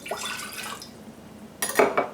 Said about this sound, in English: So I'm going to pour this in the jar,